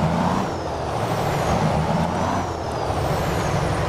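A heavy truck pulling a pickup JCB in American Truck Simulator drones with a loud, steady engine rumble and hiss, continuous and close, with no talk over it.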